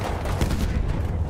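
A grenade blast and gunfire in a first-person shooter: a loud, low, booming rumble with scattered shot cracks in a dense, close battle mix.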